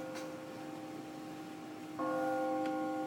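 Church-style bells or gongs strike in a slow, sustained sequence, faint and distant, with ringing overtones lingering between strokes and a fresh toll entering partway through.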